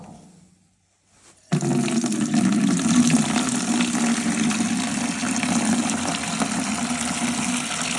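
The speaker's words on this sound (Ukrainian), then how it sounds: "у нас спеціальні ведра для того, що ми будемо зливати. Кран у нас Butterfly DU50 якраз з фіксатором." After a second of near silence, liquid from a home brewery gushes steadily through a Butterfly DU50 valve into buckets, a loud continuous rushing pour that lasts to the end.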